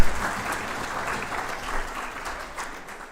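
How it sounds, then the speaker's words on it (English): Audience applause fills a student awards ceremony for a college's technicians, steady dense clapping that holds throughout and eases slightly toward the end. "And could we also add to our applause Scott and Jamie and Dylan, our technicians."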